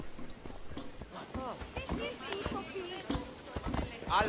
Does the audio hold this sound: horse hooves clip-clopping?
yes